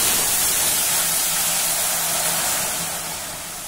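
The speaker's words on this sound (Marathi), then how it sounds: "अगदी अशी ठसकेबाज फोडणी याला बसायला हवी" A hot tempering of curry leaves and asafoetida is poured into Gujarati kadhi and erupts in a loud, dense, steamy sizzle. It is close and steady, then fades a little toward the end.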